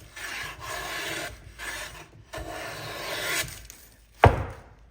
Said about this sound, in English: planing, nicely set finely, just planing to my gauge line